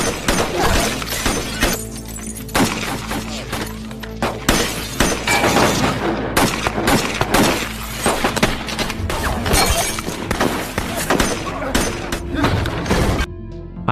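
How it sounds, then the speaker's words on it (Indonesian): A movie gunfight fills the scene with loud, dense volleys of gunshots, crashes and shattering impacts, layered over a dramatic score with narration running on top. "Baku tembak terus berlanjut"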